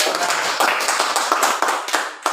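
A class claps hands in a dense, brisk burst, many palms striking at once with sharp individual claps standing out, close and fairly loud with no talking.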